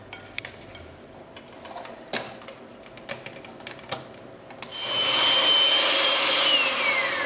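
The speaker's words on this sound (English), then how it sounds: "using an electric whisk, I'll just cream the two together" Electric whisk beating butter and sugar in a bowl, starting with scattered clicks and taps, then rising into a steady high whirring buzz for the last couple of seconds, close and with no talk.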